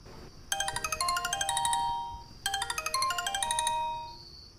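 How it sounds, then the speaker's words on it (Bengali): A mobile phone ringtone signals an incoming call during a van ride, playing a bright chiming melody in two near-identical bursts separated by a short gap, loud and clear with no talk. "ভ্যানে উঠে বসতে না বসতেই মামার ফোন এলো।"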